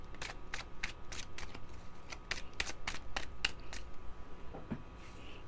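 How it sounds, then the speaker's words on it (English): An Alice in Wonderland tarot deck being shuffled by hand, a quick run of crisp riffling card bursts repeating close and steady, fairly quiet. "Going to use my Alice in Wonderland Tarot."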